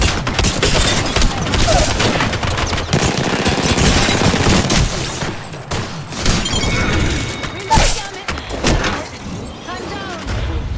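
Dense gunfire from the Apex Legends shooter, including a Re-45 pistol: continuous loud rapid shots and booms over several seconds, thinning toward the end, mixed with game voice lines.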